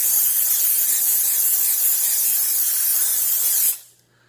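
Steady loud hiss of a steam cleaner cleaning a leopard gecko cage area and personal items such as keys, continuous for several seconds before cutting off abruptly to near silence.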